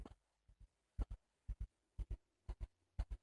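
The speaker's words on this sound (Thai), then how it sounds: "เสียงหัวใจแบบนี้" Rhythmic double-thump heartbeat from the horror video game Slender Man Chapter 2, six lub-dub pairs at a steady pace, loud and close with nothing else over it.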